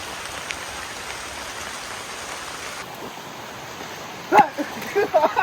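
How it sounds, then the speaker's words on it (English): Heavy rain pouring down in a jungle, a dense steady hiss of falling drops close around, with a few louder splashes or movements breaking in near the end. "It started absolutely pouring on the way down."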